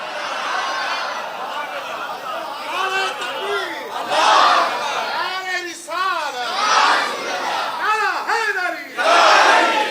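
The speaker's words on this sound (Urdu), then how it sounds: "یار مولا علی کے نعرے ٹھنڈے نہ لگاؤ یار آج کے دن." A crowd at a religious gathering on Karbala chants slogans for Mola Ali in loud, rising collective shouts that come in several surging waves, with murmuring and voices between the bursts.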